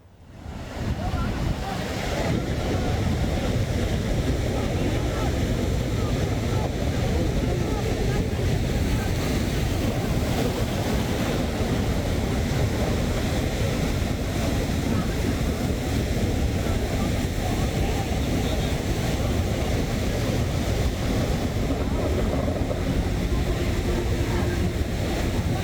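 Large, aggressive sea waves roll and crash continuously near a capsized fishing boat, a loud, dense roar of surf mixed with heavy wind buffeting the microphone throughout.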